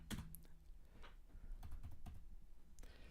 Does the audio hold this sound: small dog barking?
no